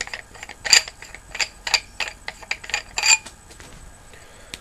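A two-piece metal paintball gun barrel on a Bob Long Closer is unscrewed by hand, making a close series of bright scraping, clicking thread turns in uneven bursts over a few seconds.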